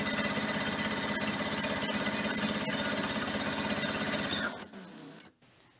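A domestic sewing machine runs steadily, stitching a quarter-inch seam on striped quilt fabric, its fast even needle rhythm continuing loud and close for over four seconds before it slows and stops.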